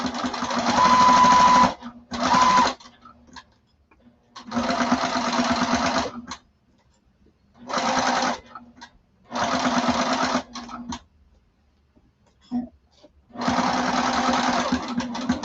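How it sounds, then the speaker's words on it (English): A sewing machine stitches duffle bag fabric in several loud, steady bursts of rapid mechanical whirring, separated by pauses with faint handling sounds. "And I'm going to stitch again at 1/8 of an inch."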